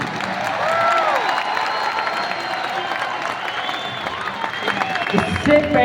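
Audience applause at an RCM anniversary gathering in Delhi, a sustained crowd clapping and cheering that fills the hall steadily for several seconds, with voices mixed in.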